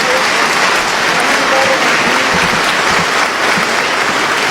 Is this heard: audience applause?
yes